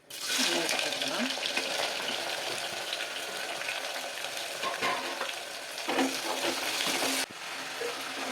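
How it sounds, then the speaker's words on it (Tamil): Onions and spices dropped into hot oil for salna, a loud, dense crackling sizzle that starts abruptly and holds steady close up, with stirring scrapes and a voice speaking at times. "எண்ணெய் சூடாகிடுச்சு, சேர்த்து வச்சது எல்லாத்தையும் போட்டு பிடிச்ச உடனே வெங்காயத்தை போட்டுக்கலாம்."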